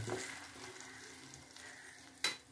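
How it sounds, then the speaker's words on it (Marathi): Cumin seeds crackle in a pan with a paste of chili masala, tomato, green chili, ginger and curry leaf powder for a soya vada curry. The sizzle is soft and steady, with one sharp crackle near the end. "जिरं तडतडले तिखट मसाला, टमाटे, मिरची, अद्रक आणि कढीपत्त्याची पावडरची पेस्ट केली आहे,"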